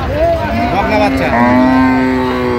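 Dairy cows and calves at the Raniganj cattle market in Dinajpur, Bangladesh, moo in loud, drawn-out calls, one long low moo carrying through most of the moment, close by.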